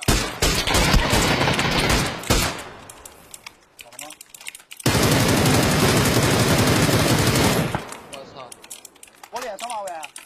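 Gunfire in a shooter video game, with long loud bursts of automatic fire in two main stretches separated by quieter moments, mixed with clicking that sounds like keyboard typing.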